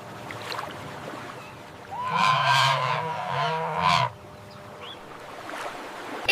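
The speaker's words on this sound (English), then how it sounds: "It's a flamingo." A flamingo lets out a single loud, nasal, goose-like honking call lasting about two seconds, close and distinct against faint background noise.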